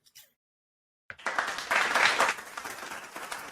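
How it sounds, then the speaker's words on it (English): A played clapping sound effect bursts in after a second of silence, a crowd of hands applauding steadily and fairly loud, with a brief faint noise at the very start. "Should I play the clapping?"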